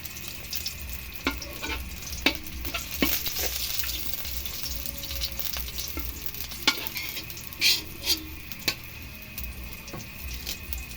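Peeled garlic fries in a pan with a soft steady sizzle, while a utensil stirs and scrapes against the pan in a series of sharp clinks.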